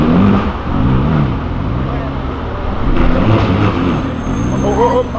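A Porsche and a BMW accelerate along an urban avenue, engines revving loudly over traffic noise, with voices mixed in and a rising engine sweep near the end.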